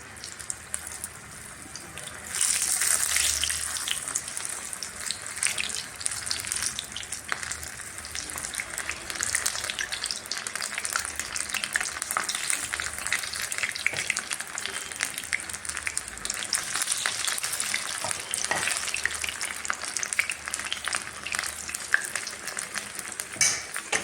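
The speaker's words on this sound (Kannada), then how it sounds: "ಎಣ್ಣೆ ಕಾದಿದೆ ಒಂದು ಸ್ಪೂನ್ ಸಾಯದಿಂದ ಬಿಡ್ತೀನಿ ಸ್ವಲ್ಪ ಸ್ವಲ್ಪ" Pumpkin bonda batter spooned into hot oil and deep-frying over a high flame, a steady, close crackling sizzle that holds for the whole stretch with a brief louder burst near the start and no talking.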